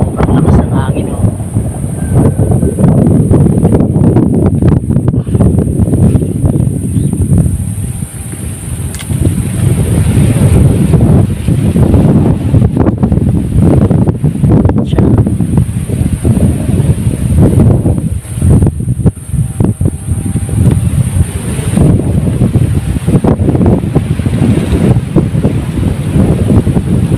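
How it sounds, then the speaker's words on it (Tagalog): Strong typhoon wind roars steadily into the microphone with gusty buffeting throughout, loud and close, as a kite is flown; a voice speaks briefly over it. "Sobrang lakas ng hangin oh."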